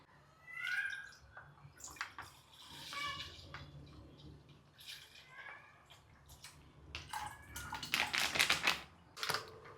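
Water pours into a packet of milk in a home kitchen, a faint, irregular splashing and trickling with scattered clatter and quiet background noise.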